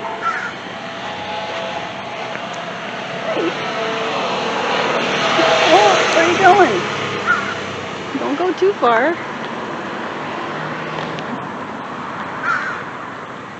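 A few loud crow caws ring out nearby over a low aircraft rumble, while a person speaks briefly.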